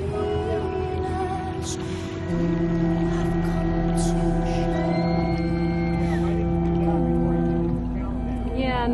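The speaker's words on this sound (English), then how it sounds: "All the boats are horning," Long sustained boat horns blaring together in overlapping tones during the sinking of the ship A.R.M. Santos, loud and steady over a low engine rumble.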